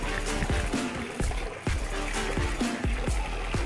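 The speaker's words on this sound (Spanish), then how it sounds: "Acá se escucha muy bien el ruido del agua." Water runs and trickles steadily in a garden fountain being cleaned, a close, continuous splashing flow with faint rhythmic thumps and drips repeating beneath it.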